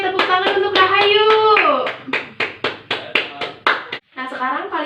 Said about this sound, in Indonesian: Hore, tepuk tangan untuk Rahayu.